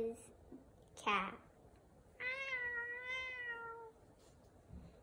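A human voice imitates a cat, giving a short sharp meow followed by a longer, drawn-out, tonal meow, close and clear in a quiet room, part of a talent show animal impressions act.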